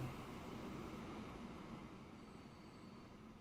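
A big freight train in the Transport Fever 2 video game rumbles steadily, a continuous low roar that fades slightly toward the end, with no talk.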